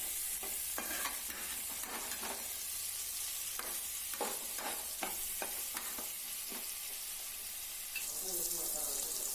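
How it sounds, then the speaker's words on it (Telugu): Chopped onions frying in heated oil for an okra curry, a steady hiss of sizzling with regular scraping strokes of a spoon stirring through the pan, close but moderate in level. "ఆయిల్ అనేది హీట్ అయ్యాక అందులో కట్ చేసి పెట్టుకున్న ఆనియన్స్ వేసి కొంచెం వేయించుకుందాం."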